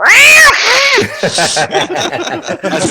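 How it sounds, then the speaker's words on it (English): A cat that has just been sat on lets out a loud, drawn-out yowl up close, followed by a string of shorter, choppy cries and grumbles. "Oh, yeah. I sat on my cat."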